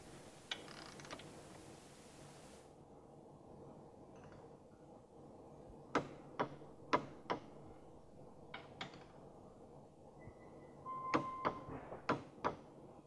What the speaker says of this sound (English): you torque these down to 23 foot-pounds.